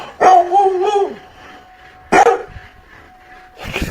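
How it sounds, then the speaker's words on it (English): A dog barks aggressively at about 4 a.m., inside a home at night, in a few sharp, loud bursts with quiet gaps between them. "he's woken up to his dog barking aggressively towards something at 4 a.m."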